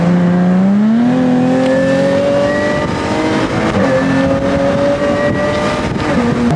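A Jaguar F-Type convertible drives along with a loud, steady engine note whose pitch climbs through the gears, close and continuous with no talking.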